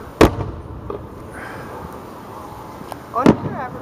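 Fireworks burst in two sharp booms a few seconds apart, each followed by crackling, heard outdoors at moderate distance.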